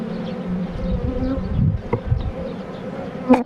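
A dense, continuous buzz of many honeybees swarming close by at a hive frame, steady throughout with a few brief knocks near the end.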